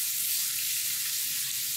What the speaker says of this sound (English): Mixing the vegetables is very nice.